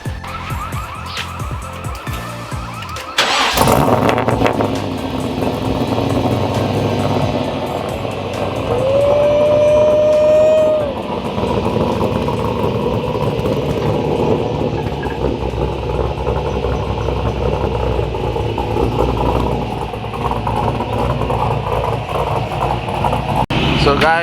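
An LS-engined Nissan S13 drift car rumbles loudly and continuously nearby, with a sudden burst early on and shifting engine tones throughout, while people talk over it.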